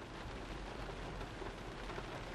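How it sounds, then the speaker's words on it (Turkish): Heavy rain drums steadily and densely on a car windshield, a loud continuous wash of drops with no voices present. "Oldukça fazla yağmur var."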